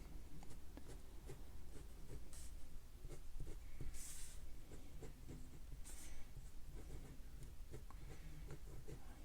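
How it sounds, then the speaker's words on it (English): A pencil sketches a pyramid net on paper with soft, continuous scratching strokes and a few faint brighter scrapes, quiet and close throughout. "Okay, I'm just sketching."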